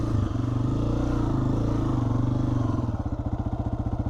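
A 2026 Honda CRF300F dirt bike chugs up a desert sand hill in low first gear, its engine loud and close with a steady, low thumping beat that turns into distinct pulses near the end.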